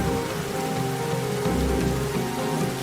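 Heavy rain pours down in a dense, steady roar that stays loud and unbroken for about three seconds, with no voices.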